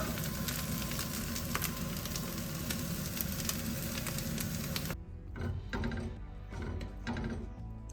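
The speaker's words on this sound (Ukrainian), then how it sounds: "додаю трішки олії і ще деякий час підсмажую" Mushrooms sizzle steadily in hot oil in a frying pan, a dense, even crackle for about five seconds, then quieter, sparser spitting and stirring noises.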